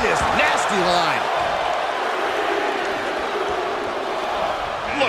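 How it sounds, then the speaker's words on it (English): Dense wrestling-arena crowd noise from a Royal Rumble match, a steady roar of cheering that fills the whole stretch, with a commentator's voice briefly over it near the start. "Just listen to the crowd."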